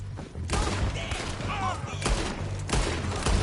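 Gunfire in Red Dead Redemption 2: repeated loud broadband shots in bursts, with a fusillade feel, over an action scene in the game with shouting voices and music.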